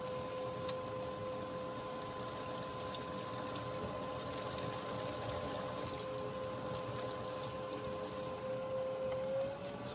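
A clay tankard of about 14 to 16 ounces turns on a pottery wheel during trimming, a steady motor hum with constant whining tones under faint scraping, running evenly throughout.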